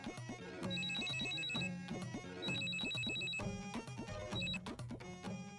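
A mobile phone ringtone in a Pakistani TV drama scene, a repeating electronic melody in loud bursts with short gaps between phrases, playing alone with no voices.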